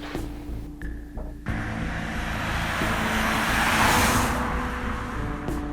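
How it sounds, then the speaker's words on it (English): Cars on a road at night pass a roadside runner, their tyre and engine roar swelling to a loud, close rush and then easing, with steady traffic noise throughout. "Cars go quite fast."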